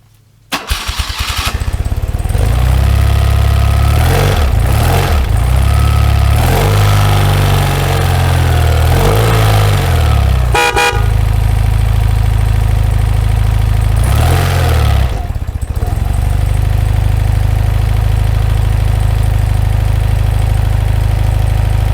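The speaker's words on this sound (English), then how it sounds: "we'll do an engine start here so you can hear it running" A 1983 BMW R100RS motorcycle engine cranks, catches and settles into a loud, steady idle, with a few revs and dips in the first seconds before running evenly and close by.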